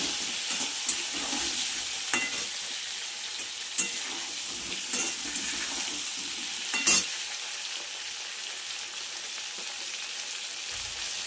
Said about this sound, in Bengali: আমি এই তেলেই সুন্দর করে ভেজে নেব